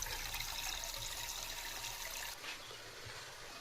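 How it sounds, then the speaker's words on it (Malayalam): Unfiltered water pouring straight from a storage tank: a steady, close trickling stream that becomes softer and thinner partway through, with no voices. "ഡയറക്റ്റ് ടാങ്കിൽ നിന്ന് ഇറങ്ങുമ്പോൾ വരുന്ന വെള്ളം എടുക്കുക കേട്ടോ"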